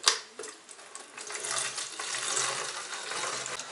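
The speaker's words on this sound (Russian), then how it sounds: "И выливаем в емкость, которая у вас" Homemade disinfectant made with lavender oil pours into a container, a close, bright gush of liquid that swells after a brief start and then runs steadily until the end.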